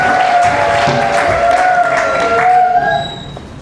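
An audience applauds and cheers through a priestly ordination ceremony, a dense steady wash of clapping with tonal voices or music mixed in, fading somewhat toward the end.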